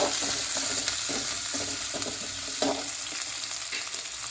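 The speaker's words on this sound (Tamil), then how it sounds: "பெரிய வெங்காயம் ரெண்டு வெங்காயம் நீல வாக்கில் கட் பண்ணி வச்சுருக்கேன் அதையும் போட்டு நல்லா வதக்கி விடுங்க" Two large lengthwise-sliced onions sautéing in oil after mustard seeds, for potato sambar; a dense, loud sizzle broken by regular spoon scrapes and stirring taps, no speech.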